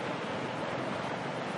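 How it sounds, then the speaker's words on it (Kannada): Heavy rainwater rushes over a damaged village road in Yadagiri during a downpour, a steady, loud broadband wash of flowing water with no breaks and no voices. "ರಸ್ತೆ ಮೇಲೆ ನೀರು ಹರಿತಾ ಇರೋದು."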